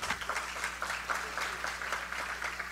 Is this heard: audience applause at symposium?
yes